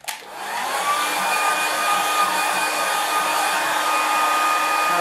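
A hair dryer blowing onto a watercolour painting, clicking on and then holding a loud, steady whooshing whine close by for several seconds, with no voices.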